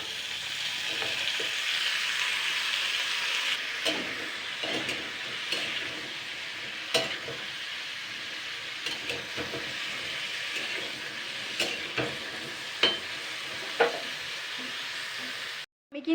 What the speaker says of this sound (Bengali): কিন্তু দুই মিনিট মতো নাড়াচাড়া করে নিয়েছি হালকা করে